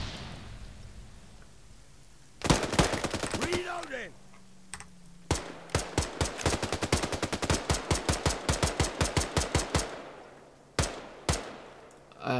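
Gunfire from an Arma 3 night mission aimed at the gunner of a technical vehicle: a short volley, then a long run of rapid, evenly spaced shots, then a few last single cracks, moderately loud with faint voices in places.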